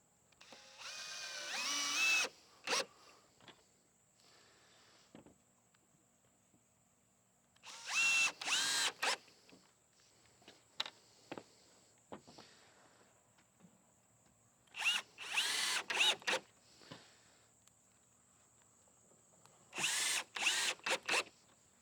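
A power drill drives screws into the wooden frame of a home-studio sound panel in four separate bursts, each lasting about two seconds, with quieter handling clicks and knocks in between and no talking.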